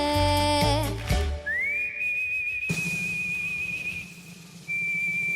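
A person whistles along to a song at a televised talent show, a clear sustained whistled tone that slides up and holds over the fading music and crowd noise.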